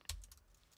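A single tab key press on a computer keyboard, a short, soft click followed by a couple of faint keyboard taps.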